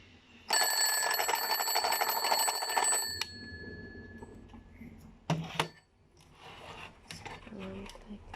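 A repaired alarm clock rings loudly with a bright, continuous metallic bell for about three seconds, then stops, followed by a few clicks and handling knocks close by.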